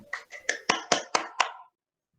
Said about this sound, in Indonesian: terima kasih, aplaus untuk kelompok 3